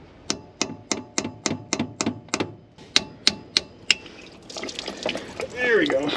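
A hammer and chisel knock out a front freeze plug on a twin-supercharged 350 engine. About a dozen sharp metallic taps ring out in an even rhythm, close and crisp, followed by coolant splashing and trickling out.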